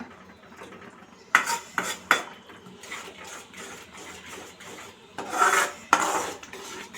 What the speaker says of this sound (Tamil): சேர்த்து கிண்டி விடுங்க